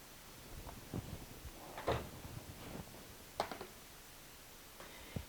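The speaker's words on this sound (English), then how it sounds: "Eva, can you close the drawer?" A drawer pushed shut, giving a few soft, separate knocks and clunks spread over several seconds in an otherwise quiet room.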